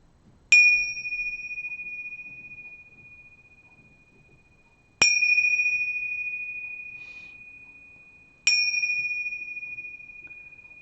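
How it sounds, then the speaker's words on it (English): Three separate strikes of a meditation bell, each a clear, bright ring that decays slowly over several seconds, evenly spaced and loud in a quiet room with no talking. "Do the bells. Hang on to your ears if it was too loud last time."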